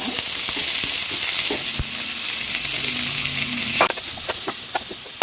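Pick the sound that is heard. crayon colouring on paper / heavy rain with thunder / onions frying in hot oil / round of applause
onions frying in hot oil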